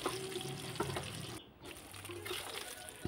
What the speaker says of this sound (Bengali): তো মাছ ভাজা প্রায় আমার হয়ে আসছে।